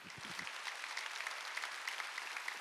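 A congregation at a Wednesday church worship service claps in a steady, fairly faint patter after a voice briefly trails off at the start.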